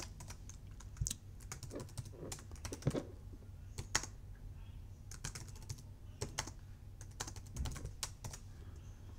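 Quiet computer keyboard typing, irregular clusters of soft key clicks with short pauses in between, close and faint, with no speech.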